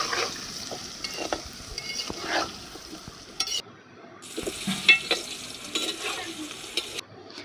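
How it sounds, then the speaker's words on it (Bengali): Potatoes frying in a kadai of oil with a little salt and turmeric, a steady crackling sizzle with stirring scrapes, briefly dipping quiet midway before the busy sizzle returns. "অল্প নুন হলুদ দিয়ে আলুগুলো ভালো করে ভেজে নেব"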